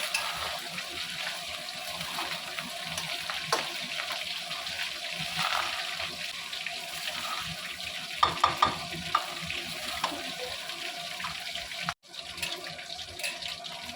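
Mixed fried rice with chicken and egg being stirred in a pan, a soft continuous scraping and gentle sizzle with a few sharper clinks of the utensil, fairly quiet and close, then a brief cut near the end.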